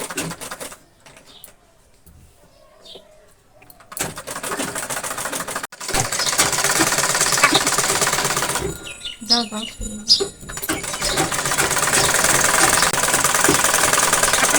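Sewing machine stitching rubber-backed mesh fabric, a loud continuous mechanical rattle running for several seconds with short pauses between runs, near and steady.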